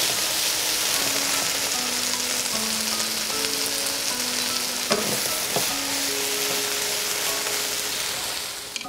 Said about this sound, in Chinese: 现在可以下入炒子翻炒